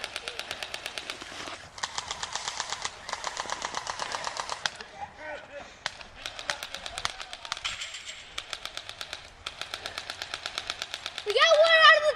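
Airsoft guns fire in rapid automatic bursts during an outdoor airsoft game, several long rattling volleys separated by short pauses, with birds chirping faintly and a brief shout near the end.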